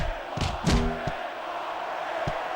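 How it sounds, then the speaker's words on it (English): A crowd roars and chants in a large arena in a wrestling video game, with a loud swell of cheering and a few sharp shouts. "Sounds like this crowd's got something on their minds, King."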